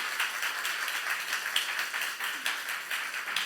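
A church youth congregation claps together during a sermon, steady fast clapping from many hands filling the room at moderate volume, continuing evenly throughout.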